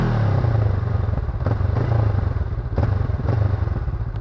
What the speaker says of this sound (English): Let's test the exhaust.